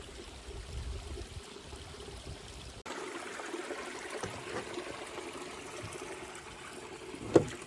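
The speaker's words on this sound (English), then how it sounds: "the creek's running pretty nicely" A creek runs outdoors on an overcast day, a soft continuous trickling wash of moderate flow, fairly faint, with a brief knock near the end.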